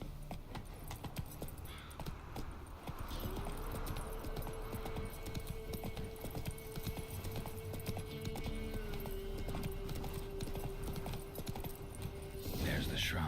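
Roach, the horse in The Witcher 3, gallops with a continuous stream of hoofbeats, moderately loud and even, over an ambient musical tone and wind-like background, ending in a brief burst.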